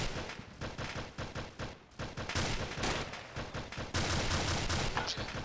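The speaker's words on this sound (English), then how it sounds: "Seems to be a lot of fire going down the middle here" Dense Arma 2 video game gunfire, rapid overlapping shots and bursts crackling continuously at varying distances, loud and unbroken across the whole stretch with no voices.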